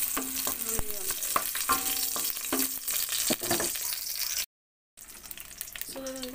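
Ginger sautéing in a smoking-hot wok for salmon sinigang, with steady sizzling and frying crackle plus scraping stirs of a utensil against the pan, close and continuous; a brief gap of silence near the end.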